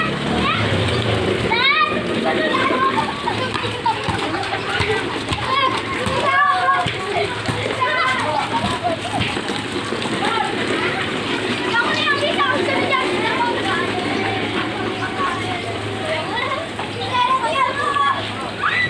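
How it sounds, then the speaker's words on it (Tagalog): Children shriek and chatter while splashing in water dripping from a corrugated metal roof, with sloshing and splattering under steady rain throughout. "Nasad sila sa tulo ng yero ng bubong. Lambitin sa ulan."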